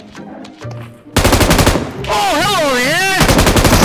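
Rapid automatic gunfire in PUBG Mobile, a loud, dense burst of shots that starts abruptly and keeps going, with a voice calling out over the opening and whooping, wavering game sounds layered on top.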